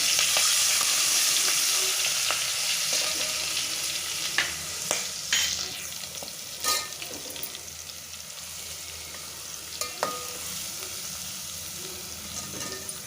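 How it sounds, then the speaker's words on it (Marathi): Garlic sautéing in a pan for a bean rice dish, a steady close sizzle with occasional scrapes and clicks of a spoon stirring, no talk. "लसूण लसूण थोडा परतून घेऊया आपण"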